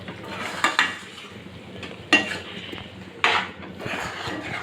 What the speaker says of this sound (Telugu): మనము గోంగూరని పేస్ట్ చేసుకున్నాం కదా ఇది కూడా వేసేసి కలిపేసుకోవాలి